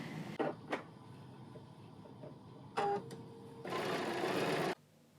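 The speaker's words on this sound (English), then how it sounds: "we're going to sew around this circle" A sewing machine stitches around a fabric circle for a paper-pieced sunflower quilt block, with a couple of short clicks first, a brief burst near the middle, then a steady, louder run of stitching for over a second before stopping.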